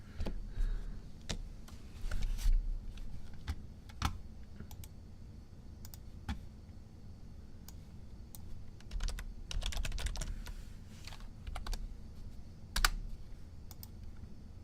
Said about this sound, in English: Give me this keyboard.